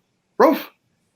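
A voice imitates a single dog bark during a mock courtroom comedy bit: one short, loud, throaty woof that stands alone in silence.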